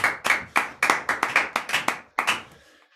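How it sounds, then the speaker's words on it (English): Clapping in an even rhythm, about a dozen sharp claps close by, bright and distinct, trailing off at the end. Performed after a palmas (flamenco hand-clap) combination set to frame drums. "Applause"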